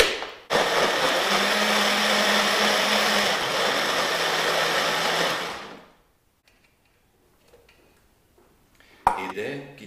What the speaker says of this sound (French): tout aussi facilement réduire en purée des pommes avec un peu de cannelle, de sucre pour ma compote de pommes